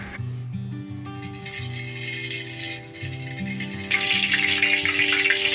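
Chopped beans and carrots fry in oil in a pan, giving a steady crackling sizzle that swells louder partway through, partly masked by continuous background music.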